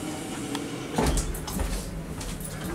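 Ritchie Hart elevator doors at the Whistledown Hotel in Warrenpoint sliding shut, a soft rumbling slide ending in a clunk, with light rattling afterward inside the car.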